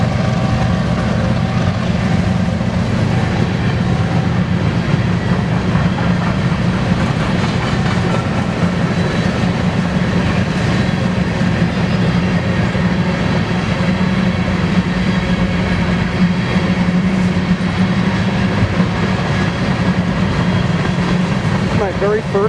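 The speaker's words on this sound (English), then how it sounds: "very first double grain train from Burlington Northern in Santa Fe." A BNSF double grain train led by engine 5782 passes eastbound through Spokane Valley, Washington, with a steady, loud rumble and rolling rail noise that holds without a break.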